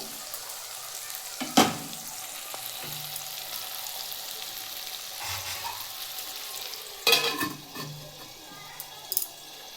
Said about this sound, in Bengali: নাড়িয়ে দিচ্ছি ভালো করে ভাজার জন্য